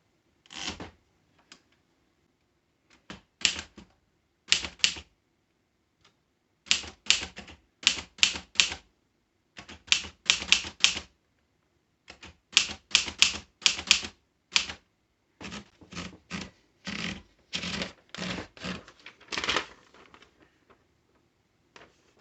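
Bursts of mechanical typewriter keystrokes with a newly replaced ribbon, clattering in quick irregular runs with short pauses between words, close and fairly loud, no voices.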